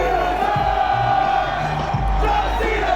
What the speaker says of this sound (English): for some reason I'm booing the absolute snot out of him